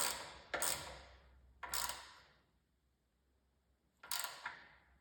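Socket wrench ratcheting on a Cub Cadet snowblower part, three quick bursts of close, crisp clicking separated by quiet pauses.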